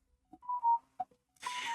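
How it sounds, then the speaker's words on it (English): A smartphone notification chime sounds, a couple of short tonal blips followed by a brighter sustained alert tone near the end, otherwise quiet. "I can't believe audio notifications are on by default"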